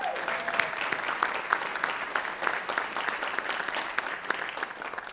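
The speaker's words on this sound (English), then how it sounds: "Round of applause for them, please." An audience in a village theater applauds sponsors at a township event, steady clapping from many hands filling the room for several seconds, with no one talking over it.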